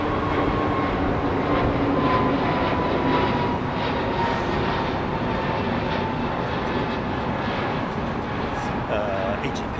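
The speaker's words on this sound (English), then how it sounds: "a few prop aircraft can reverse off stand using reverse pitch" A propeller aircraft reverses off its stand at Heathrow using reverse pitch, making a loud steady roaring drone that holds throughout, with a voice talking over it.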